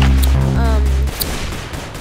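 Gunfire from a Dragunov rifle in the video game Arsenal: a loud, booming game soundscape with a voice briefly heard, then a sharp shot near the end of the short burst.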